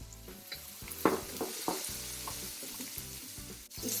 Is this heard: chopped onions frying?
yes